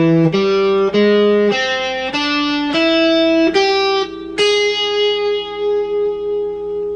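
An electric guitar plays a stepwise scale, about eight clean notes at a steady pace, the last one ringing out with a slight echo.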